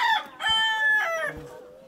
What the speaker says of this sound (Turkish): burada bir horoz var. Bu dövüşçü bir horoz.